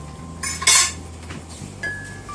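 Onions are stirred in a frying pan, with a few sharp metallic clinks and scrapes of a utensil against the pan over a soft sizzle, close and brief.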